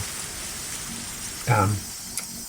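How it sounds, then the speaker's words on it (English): In the visual novel Higurashi, rain falls as a steady, dense hiss of drops. A brief, louder voice-like burst rises partway through, and a small tick follows near the end. "Really good audio engineering with the rain. It sounds legit."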